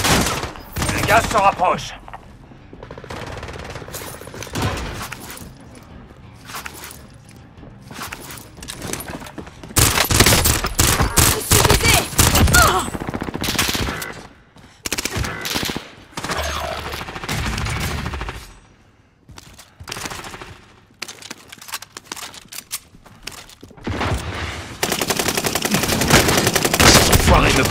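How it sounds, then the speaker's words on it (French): Bursts of automatic gunfire and scattered shots in the Warzone battle royale, loud and intermittent, with rapid volleys broken by short quiet gaps and a voice speaking briefly. "On me tire dessus, là !"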